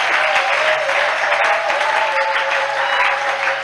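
A church congregation at a Christian worship service applauds steadily and loudly, a dense wash of clapping that holds for the whole stretch, with a faint low hum beneath.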